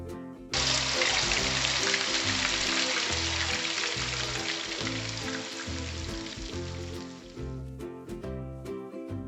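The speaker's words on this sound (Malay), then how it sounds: "Panaskan sedikit minyak dan tumiskan bahan-bahan kisar dahulu." Blended spice paste sautés in a little hot oil for mee goreng, giving a strong, even sizzle that starts abruptly and holds for several seconds before easing off, heard alone.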